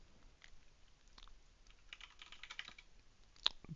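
Soft, irregular keystrokes on a computer keyboard patter in quick clusters, faint and close, with a sharper click near the end and no talking.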